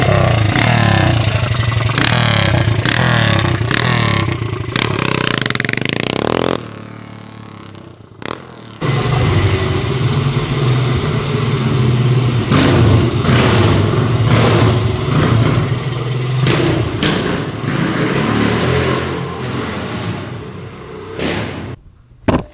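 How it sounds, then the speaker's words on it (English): A 1965 Ducati 250 Desmo motocross bike engine runs loud and close, revving and clattering for most of the stretch, with a brief drop around the middle before it picks up again. "you're looking at one of one Ducati 1965 250 Desmo motocross bikes"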